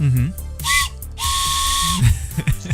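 A toy train whistle with four holes gives a chord-like toot, one short blast and then a longer sustained one, close and loud with no talk over it.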